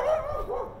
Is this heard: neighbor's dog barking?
yes